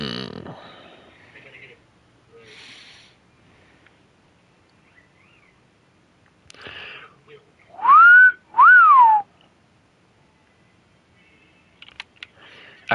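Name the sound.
person whistling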